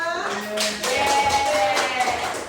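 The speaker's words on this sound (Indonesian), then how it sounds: "tepuk tangan dulu buat Arka" Schoolchildren in a classroom clap for their classmate Arka during a lesson, a brief burst of many small hands, fairly close, with a voice faintly over the clapping.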